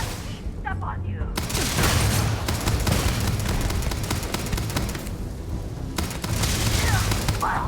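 A grenade blast and gunfire in the space game Starfield: a loud, dense eruption of booming explosions and rapid shots running through most of the stretch, with a short calmer gap before another surge.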